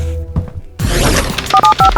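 A jail lobby telephone is handled with a clattering thunk of the receiver, then a quick series of short dialing tones plays close up, alone.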